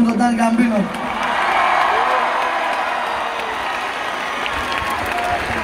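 Crowd at a live outdoor concert in Thessaloniki claps, cheers and whoops loudly, a dense sustained roar of applause after a brief opening moment with a voice over a low musical tone.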